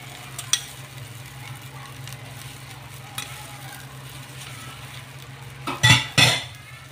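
Squid dropped into a hot frying pan for a spicy seafood tom yum, a low steady sizzle with a couple of clinks, then two loud bursts of spattering hiss near the end.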